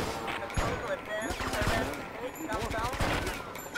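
Rapid bursts of gunfire in the video game Grand Theft Auto: Vice City, with repeated sharp shots and volleys, mixed with in-game voices and effects.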